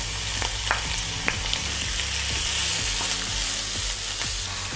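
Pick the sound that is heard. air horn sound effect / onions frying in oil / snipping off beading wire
onions frying in oil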